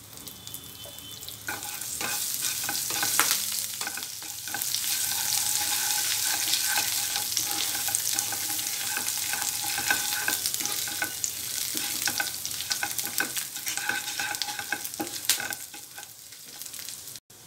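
Masala with curry leaves, salt and coriander powder sizzles in a pan for egg roast, a loud, constant frying hiss with frequent stirring scrapes, close up and without talk.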